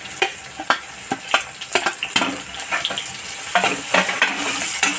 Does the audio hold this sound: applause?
no